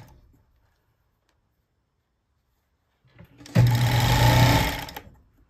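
A Bonis fur sewing machine stitches beaver fur and leather. After a quiet start, it runs in one loud, steady burst of rapid mechanical whirring that lasts about a second and a half, then stops.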